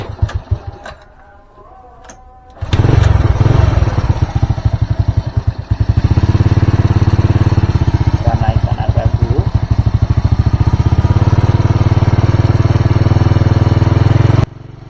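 A Honda Supra motorcycle engine, a running-rich bike that is hard to start in the morning, catches after a quiet start and settles into a loud, close, rapid idle putter, steady through to the end with no talk over it.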